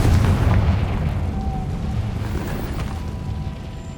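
A Confringo fire-spell blast erupts in the Hogwarts Legacy video game, loud and booming, then trails into a continuous low rumble that fades slowly over several seconds.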